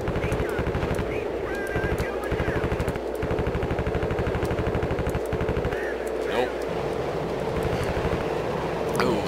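An aircraft cannon fires in a flight-combat game in long rattling bursts broken by short pauses, over a steady engine drone, with a voice talking at times.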